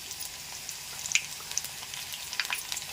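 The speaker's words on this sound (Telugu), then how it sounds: "ఆవాలు" Mustard seeds sizzle in hot oil, tempering for a bitter gourd pulusu: a steady close frying hiss dotted with sharp little pops and crackles throughout.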